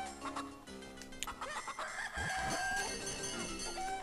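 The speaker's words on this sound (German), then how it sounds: "Da ist das andere Huhn." A chicken in the video game Zelda: The Minish Cap clucks and squawks in a burst of loud chirpy calls, layered over game music and sound effects.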